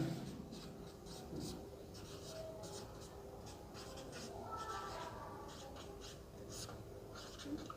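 Pen on paper writing out a class 10 math solution about a square's equal diagonals, with soft, steady scratching strokes running throughout, close and quiet.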